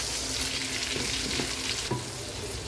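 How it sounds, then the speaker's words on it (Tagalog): Garlic and onion sauté in cooking oil in a pan for pork binagoongan, a steady close sizzle and crackle with faint stirring and no talk. "gigisa na natin yung ating bawang"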